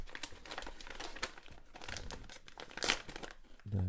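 Crinkly plastic packaging of an Omega Chronostop watch being torn and crumpled open, with rustling and ripping that continues throughout, fairly quiet and close.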